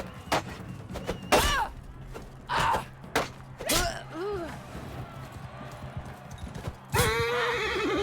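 In the video game Mount and Blade Bannerlord, hooves clatter in bursts and a horse whinnies loudly several times, with brief vocal sounds and thuds mixed in amid game effects.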